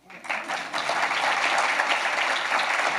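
An audience claps to welcome author and journalist David Ignatius at a university lecture series event, the applause swelling quickly into a dense, steady patter of many hands that holds for several seconds.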